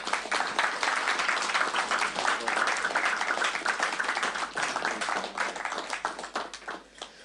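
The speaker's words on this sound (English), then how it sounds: "can we give a round of applause for the first one?" An audience claps at a Srimad Bhagavatam class at ISKCON Coventry, giving a dense, even round of applause that tapers off near the end.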